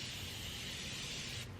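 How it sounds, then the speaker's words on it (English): Makeup setting spray mists onto a face in one continuous close hiss lasting just over a second before cutting off. "we are going to set our face with setting spray"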